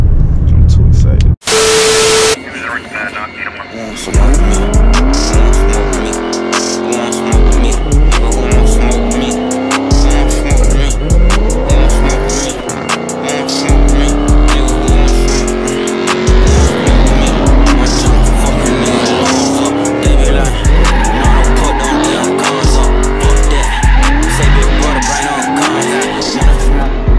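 A Dodge 392 Scat Pack drives hard with a loud, close, repeatedly revving V8 and tires squealing through turns in rhythmic bursts, preceded by a brief electronic tone.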